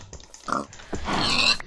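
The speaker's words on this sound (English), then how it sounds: "Now, it's a pig spawner." A pig from a spawner in a video game oinks and grunts in two short, close bursts, the second longer and louder.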